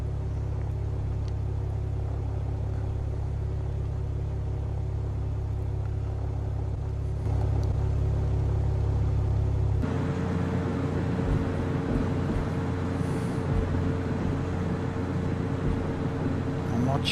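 A Mooney Bravo light aircraft engine in Flight Simulator X runs with a steady low rumble while taxiing, and the tone and loudness shift partway through.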